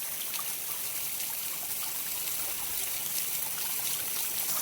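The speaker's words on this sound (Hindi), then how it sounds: "झरने का मजा लेते हुए मुझे तुम देख सकते हो" Water rushing steadily at a waterfall on a slippery path, a constant broadband hiss and splash heard fairly close with no gaps and no speech over it.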